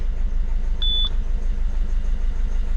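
A Citroën C4 engine idling in a steady low rumble close by, with a single short electronic beep from the car's dashboard partway through.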